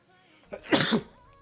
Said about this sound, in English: You're welcome for that sneeze.